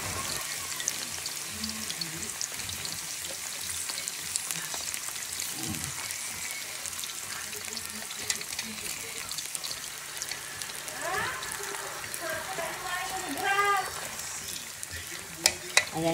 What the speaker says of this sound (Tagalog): Parang magpiprito lang po tayo ng french fries guys.